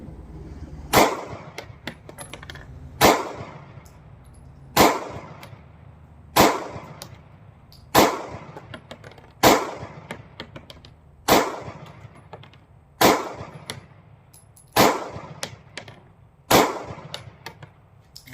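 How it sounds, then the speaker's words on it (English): A Sig Sauer P365 pistol fires ten loud, sharp shots at a steady, evenly spaced pace, each crack followed by a short ringing decay, with no talking. "So we got 1 minute to shoot all these rounds"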